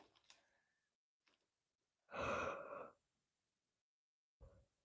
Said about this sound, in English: I got the yawns.